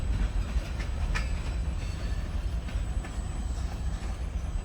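A Kiamichi Railroad freight train with SD40-type locomotives rolls steadily past near Idabel, Oklahoma, a loud, continuous low rumble with faint rhythmic wheel clicks and no voices.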